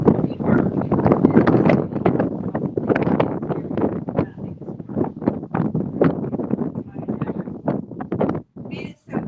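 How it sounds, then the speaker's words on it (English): Wind buffets the microphone on an outdoor playground, loud gusty rumbling bursts that run throughout alongside a person's speech. "Man, it's so windy out here."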